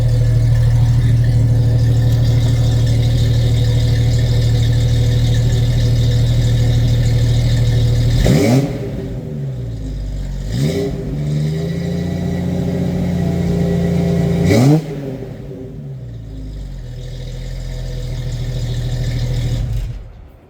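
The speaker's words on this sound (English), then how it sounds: "I'll go ahead and do a little rev for you from back here." A 1996 Jeep Cherokee with a Flowmaster muffler idles steadily and loudly up close, then gets three sharp revs, each surge falling back to a rumbling idle.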